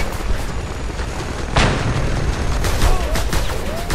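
A thrown bomb detonates in Just Cause 2, a single loud, close booming blast midway through, set against a steady rumbling game backdrop with scattered sharp cracks and whistling sweeps following it.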